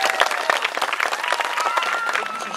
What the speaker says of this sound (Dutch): daar wil ik wel heel graag nog een heel hard applaus voor.